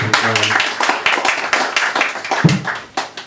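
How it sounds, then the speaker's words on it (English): An audience at a poetry performance claps in a burst of applause, many hands beating together loudly and close, with no speech over it. "So more applause, please, for Graham Buchan."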